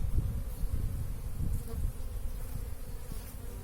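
Honey bees buzz in a dense, steady drone from an opened hive during an inspection, the swarm close and continuous with no talk.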